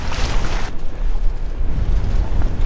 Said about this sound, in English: it's freaking freezing out here with this wind